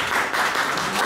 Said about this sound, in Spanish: Un aplauso a nuestro ponente.